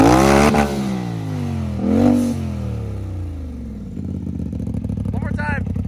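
A RZR side-by-side engine fitted with a cheap homemade exhaust revs up and falls back in two blips, then settles into a rough, burbling idle, loud and close.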